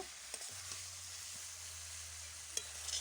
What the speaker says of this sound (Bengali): সব কিছু ভালো করে কষিয়ে নেব।